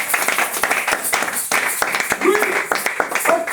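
A church congregation breaks into loud, rapid clapping and cheering, with dense hand claps going on while a preacher's voice speaks over it.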